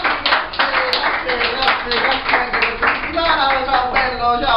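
Audience applause fills the space at an Italian comedy show, a dense steady clapping from a sizeable crowd, loud and close throughout, with voices mixed into the noise.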